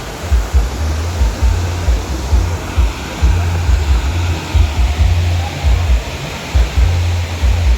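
Water roars continuously as it cascades down, a dense, loud rushing with a low rumble underneath and no voices.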